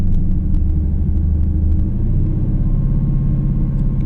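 Car engine held just off idle at around 1,500 RPM, a steady low rumble with a slight shift in tone partway through, heard from inside the car with no talking.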